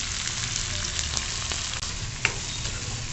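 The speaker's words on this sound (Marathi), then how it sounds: "आता ही डाळ चांगली परतवून घ्यायची" Lentils and onions sautéing in a pan with dried red chilies and green chilies, a steady close sizzle with occasional stirring scrapes and faint clinks, no voices.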